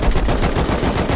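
Rapid automatic gunfire from the video game Rust, a dense burst of loud shots filling the whole moment with no talk over it.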